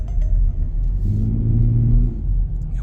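A Nissan Teana 2.4 with automatic transmission drives and accelerates, its engine a loud, steady low rumble rising into a whirring tone as it pulls, heard from inside the car.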